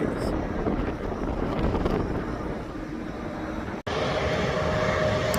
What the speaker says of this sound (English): The Boeing 777.